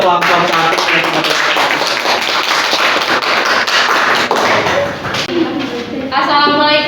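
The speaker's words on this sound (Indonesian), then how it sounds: "Kita kasih aplaus dulu untuk kelompok 1." A classroom audience applauds group 1, dense steady clapping filling the whole stretch at close range, fading slightly near the end.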